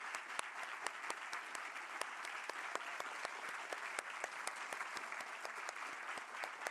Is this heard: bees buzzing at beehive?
no